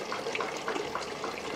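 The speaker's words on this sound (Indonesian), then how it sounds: "Nah, bisa lihat di sana pompanya otomatis menyala ya." An automatic aquaponics water pump runs on household power, sending a steady rush of flowing water that fills the system continuously and fairly close, with no talk.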